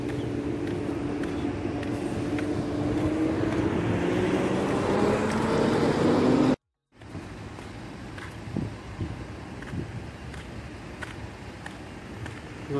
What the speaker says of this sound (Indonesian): Wah, ada bis-bis ini.